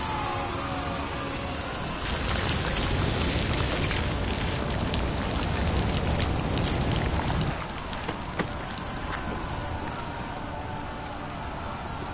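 Steady rain hisses across the ground in the video game The Witcher 3, dense and continuous, with faint scattered clicks and drips mixed into the wash.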